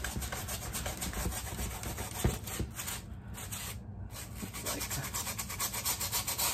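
A brass brush scrubs the sole channels of a pair of Hoka shoes in fast, close, rhythmic rasping strokes, with a short pause partway through.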